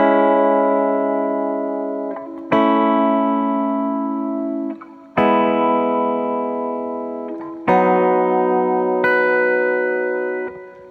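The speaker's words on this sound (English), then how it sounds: "I add in the reverb, and we get this sound." Four electric guitar chords are struck in turn, each ringing out long and slowly fading under heavy reverb, loud and alone with no voices.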